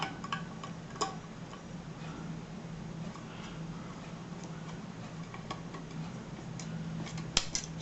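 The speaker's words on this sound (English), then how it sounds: "it's just a matter of taking out a group of screws" Small screws being worked loose from a Celestron C8 telescope fork mount, with faint metallic ticks and clicks over a steady low hum, including a sharp click near the start and another near the end.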